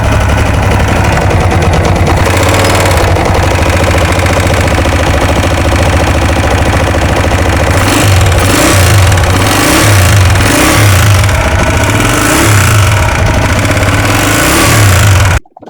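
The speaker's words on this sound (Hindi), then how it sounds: "उससे पहले इसका साउंड आपको चेक कराते हैं।" A Honda CG125 motorcycle engine with a damaged cam gear idles and revs steadily, loud and close for the whole stretch with a rapid mechanical chatter and repeated throttle swells, no talking.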